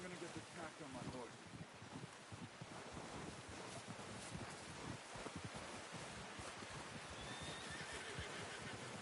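A horse in Red Dead Redemption 2 whinnies against a quiet, hissing outdoor backdrop of wind, the call soft and somewhat distant, partly buried in the steady broadband rush.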